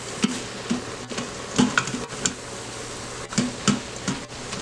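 A spoon stirs ground turkey with garlic powder and onion powder in an Instant Pot, making repeated scraping knocks against the pot over a soft steady sizzle, close and moderately loud.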